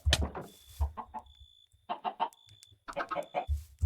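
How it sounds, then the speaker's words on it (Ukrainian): Chicken clucking in short bursts, close and fairly loud, with brief pauses between, plus a faint steady electronic tone in the background, in the video game Minecraft. "Кури, кури, кури, кури, сюди, сюди, сюди всі."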